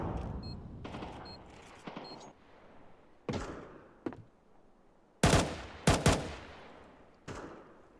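Five-SeveN pistol fire in Counter-Strike: a string of sharp, separate shots, some in quick pairs, spaced irregularly over a quiet background, with a few louder bursts near the end.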